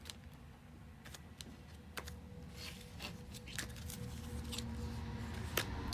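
Tarot deck being cut by hand, soft card shuffles and several sharp clicking snaps spread across a quiet room, close and fairly faint.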